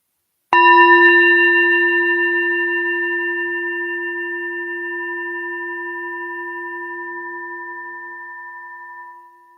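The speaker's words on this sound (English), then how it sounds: "when you hear this final tap of the singing bowl, shift your attention to the sound of the bell as it rings" A singing bowl is struck once and rings out with a clear, pure tone that fades slowly over several seconds into silence.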